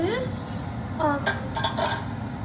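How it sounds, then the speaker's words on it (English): Oil poured into a metal cooking pot for frying fries, with light clinks and metallic knocks of cookware, a brief pouring trickle and a few sharp taps, close and moderately loud. "I'm going to add some oil to the pot."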